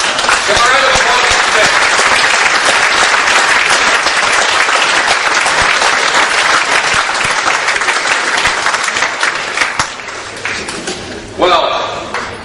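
Loud, sustained round of applause from a conference audience in London, a dense wash of clapping that fills the space, thinning slightly near the end as it begins to die down.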